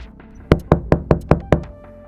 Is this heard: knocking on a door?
yes